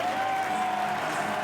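A rugby league crowd at a Sea Eagles versus Rabbitohs match applauds from the grandstands and hill, a steady wash of clapping heard at a distance.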